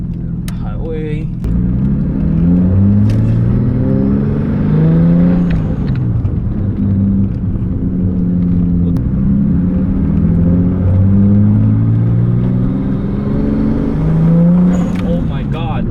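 A car with a Nissan RB25 engine on slightly reduced boost pulls hard up through the gears on a highway, loud close engine note rising repeatedly with shifts, while people talk over it.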